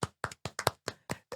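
A single person clapping hands, eight sharp claps in a steady rhythm over about a second and a half, close and alone with no talking.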